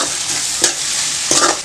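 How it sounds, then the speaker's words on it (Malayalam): Onions sauté with salt and turmeric for prawn biryani, giving a loud, steady sizzle with two scraping strokes of a spoon stirring the pan. "ഇതൊന്ന് വാടി വരുന്ന സമയത്ത് ഒരല്പം ഉപ്പും അതുപോലെ തന്നെ കുറച്ച് മഞ്ഞൾപ്പൊടിയും കൂടെ ചേർത്ത് കൊടുക്കാം."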